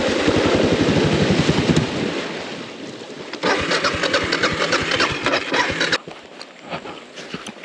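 A Suzuki DR650 motorcycle crossing a river runs close by with a choppy, uneven engine note that pulses in bursts, fades, then picks up again, with water sloshing around it.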